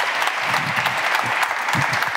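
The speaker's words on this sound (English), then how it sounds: "Another big round of applause for StatLab." Conference audience claps for the StatLab presenters at a ministerial eGovernment session, a short burst of close, dense clapping from a hall full of people.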